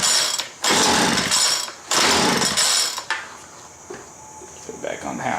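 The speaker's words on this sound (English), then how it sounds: "It says pull to start." Two sharp pulls on the starter cord of a Homelite MightyLite 26b leaf blower set to half choke, each a loud close whirring rasp, followed by quieter mechanical rattling and faint handling noise.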